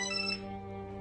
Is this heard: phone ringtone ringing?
yes